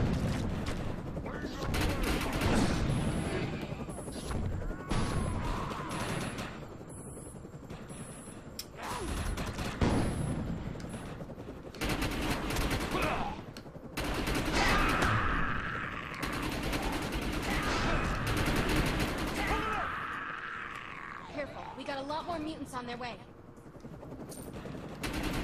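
Gunfire in the video game Defiance crackles in repeated bursts and sustained automatic volleys across a long firefight, loud and close, with game effects and some speech mixed in.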